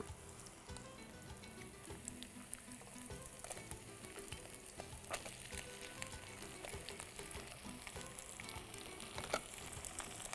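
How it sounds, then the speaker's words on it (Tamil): Eggplant frying with sautéed onions in a pan gives a steady, close sizzle with crackling pops and occasional stirring scrapes, with no talking. "இப்போ இந்த வெங்காயம் வந்து முக்கால் பாகத்துக்கு வதக்கிடுச்சு. இதில் கத்திரிக்காயை போட்டலாம்."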